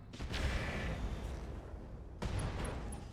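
Mech weapons fire and impacts in the BattleTech video game, a faint muffled burst of booming shots followed by a second impact about two seconds later.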